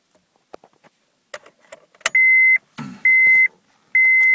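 A 2001-2005 Honda Civic sounds a daytime running light reminder, three long, steady electronic beeps alternating with short gaps, mixed with scattered clicks and clunks of work inside the car.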